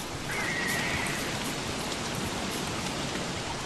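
Steady rain falls in Don't Starve: Pocket Edition, a dense even patter washing across the whole stretch, joined briefly early on by a faint high whinny-like tone.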